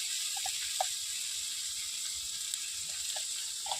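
Potatoes fry in a pan with a soft, continuous sizzle, quiet and close, with a few faint clicks scattered over it and no voices.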